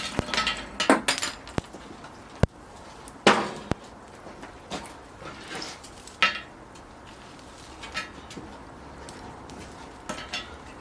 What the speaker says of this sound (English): I'm going to put the turkey leg in, get the lid on